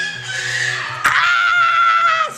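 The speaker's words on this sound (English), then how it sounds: "Ah, screaming kids." Children screaming in a home setting, a sustained high-pitched shriek that breaks into a sharper, louder burst midway and carries on to the end, with no talk over it.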